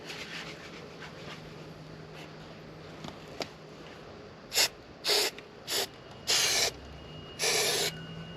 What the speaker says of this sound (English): That's the sound of everything getting covered with spray adhesive.